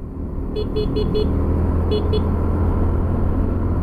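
A car horn honks in short bursts, four quick toots and then two more, while a vehicle drives past the Resurrection cemetery in Mingan, over steady engine rumble and road noise.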